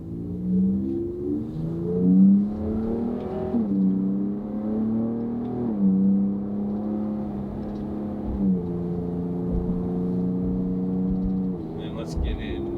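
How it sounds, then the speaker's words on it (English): Second-generation Ford Raptor with a Borla Atak exhaust, its engine note rising and falling through revs and downshift blips, steady and close, with a person talking over it throughout. "So on the blips when it downshifts, it's got a nice pop to it,"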